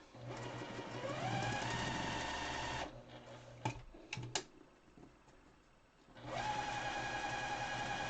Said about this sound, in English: I'm going to stitch all around this interfacing with my sewing machine